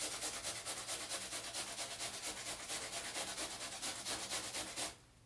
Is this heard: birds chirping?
no